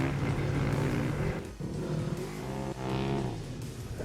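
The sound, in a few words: Polaris RZR off-road vehicle driving on sand dunes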